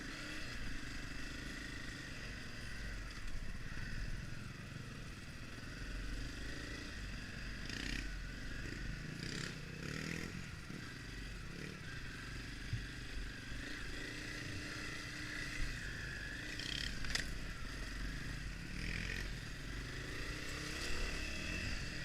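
A 2020 Honda CRF250F dirt bike engine on a trail ride, a continuous steady drone with mild throttle swells, fairly close and constant throughout, no talk.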